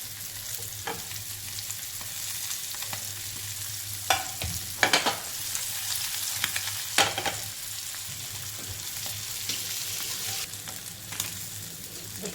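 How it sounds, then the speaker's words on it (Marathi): Small mandeli fish fry in oil in a pan, a steady close sizzle with a few louder spattering crackles and faint clinks, no talking. "छोटे मच्छी असल्यामुळे पटकन भाजून निघतं"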